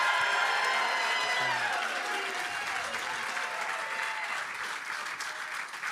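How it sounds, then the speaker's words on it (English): An arena crowd at a Boston Bruins event applauds and cheers steadily, a dense loud wash of clapping with scattered whoops that fades slightly toward the end. "All right, the crowd's rowdy, ready to go."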